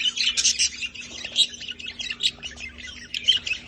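A group of budgerigars squawking and chirping constantly at close range, a dense, busy chatter of overlapping calls with no pauses.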